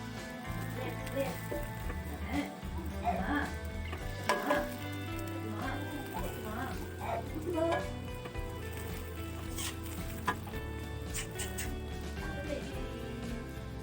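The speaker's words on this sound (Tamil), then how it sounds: "கைவிடாமல் கிளறணும்" Food roasts in a pan with a soft, steady sizzle, broken by intermittent scraping and stirring strokes. A voice talks quietly over the cooking sounds.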